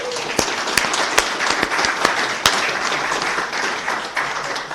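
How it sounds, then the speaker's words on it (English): An audience at a city council meeting gives a round of applause, a dense, steady clapping with a few sharper individual claps standing out, close and continuous. "So let's give them a round of applause."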